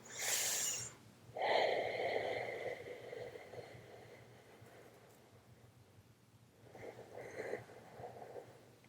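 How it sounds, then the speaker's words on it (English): Slow, deep breathing during a yoga flow: a sharp inhale, then a long audible exhale, and another breath swelling near the end, close and fairly soft with no talk. "Let's take 2 more deep breaths here."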